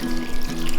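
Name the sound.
pouring cooled brine over goose breast in container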